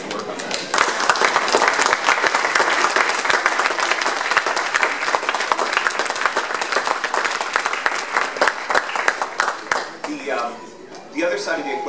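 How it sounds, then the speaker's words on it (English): A crowd at a library branch opening in Toronto gives a sustained round of applause for Councillor Adam Vaughan, loud and dense, tapering near the end as a speaker resumes talking. "we need to owe Councillor Adam Vaughan a round of applause for his work on that"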